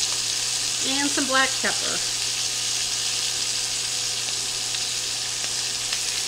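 A beef roast searing in a hot pan, giving a steady, bright sizzle throughout, briefly under a spoken line near the start.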